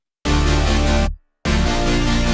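Future bass basses play together with the chords in Cubase, two loud dense sustained stabs broken by a short silent gap, with no voices.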